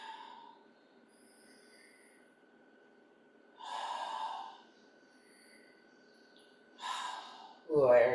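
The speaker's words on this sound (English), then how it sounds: "Exhale here." Soft audible exhales during a yoga class, two breathy outbreaths a few seconds apart over a faint steady hum, close and quiet, ending with a brief burst of speech.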